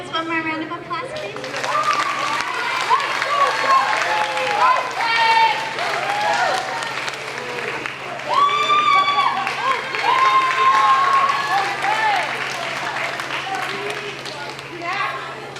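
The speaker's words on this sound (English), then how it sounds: "Let's give these students one more round of applause" Audience applause for graduating students at the Healey School Moving On Ceremony, steady clapping and crowd noise with scattered cheers and voices filling an indoor hall.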